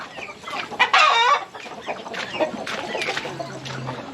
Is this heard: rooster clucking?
yes